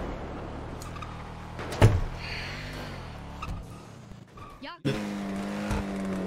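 Cars from the GTA video game on a Chicago roleplay server, engines revving and tires squealing in short bursts, mixed with game effects, while people talk over the action.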